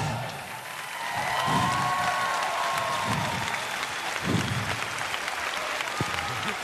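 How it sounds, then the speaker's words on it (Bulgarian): Studio audience applause following a song performance on a Bulgarian TV show, sustained clapping and some cheering, with a voice speaking over the crowd at moments. "Аплодисменти за всички от фитнеса на Фънки Манкис"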